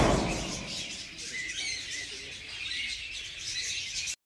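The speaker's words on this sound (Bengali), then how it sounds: "রকমারি সব বার্ড।" Mixed birds calling in a zoo aviary, with scattered chirps and tweets over a steady hiss of background noise, moderately faint and continuous.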